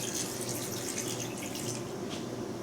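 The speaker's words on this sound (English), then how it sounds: "And then Miss Ad, would you do me the honors of pouring that right over the top of your potatoes?" Liquid pouring steadily over potatoes in an Instant Pot, a continuous close splashing stream with no voices.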